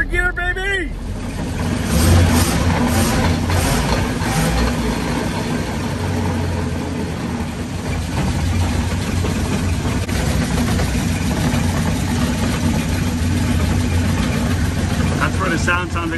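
A 1981 GMC Sierra pickup engine runs while the truck drives along an old dirt road, a steady low drone with road rumble lasting the whole stretch, close and loud, with a brief bump or clatter near the start.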